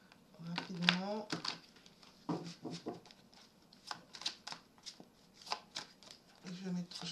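Playing cards shuffled quickly by hand, a run of crisp riffling bursts and soft flutters spread through the clip, with a person talking intermittently in between.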